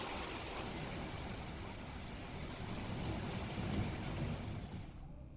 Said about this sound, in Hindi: इस झमाझम बारिश, यानी कि बारिश के साथ साथ ओलावृष्टि भी हुई है